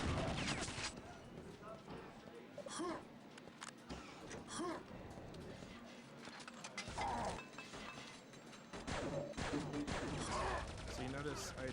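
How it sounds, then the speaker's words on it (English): Pistol fire and other weapon noise in the video game Quake II, sharp mechanical bursts and clacks scattered over busy game sound, with someone talking over much of it. "So you notice I just pulled out my pistol there, shot 3 times."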